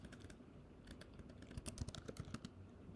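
Fast, irregular keystrokes clatter on a computer keyboard, close and quiet, in bursts of clicks with short pauses and no speech.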